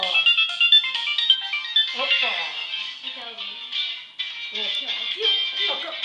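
A mobile phone rings with a repeating electronic ringtone melody throughout, while someone speaks Portuguese over it.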